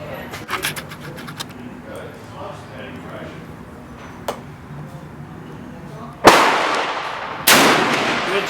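A shotgun fires twice at a shooting range, two loud, sharp blasts near the end with ringing decay. Quieter handling and low voices come before them.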